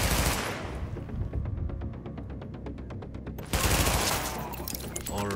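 Rapid automatic gunfire from the video game The Division rattles in a fast, even burst lasting about two seconds, with loud heavier blasts and action noise before and after.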